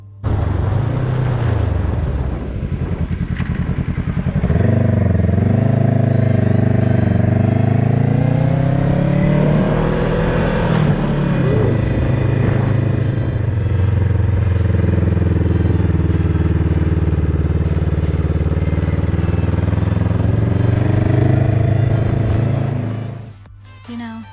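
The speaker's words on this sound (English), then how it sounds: "It was nice to see such luxurious vehicles like those pass by." Luxury cars' engines roar past one after another on the road to Shelter Cove, California, revving and shifting pitch as they go by close, a continuous loud rumble that fades out at the end.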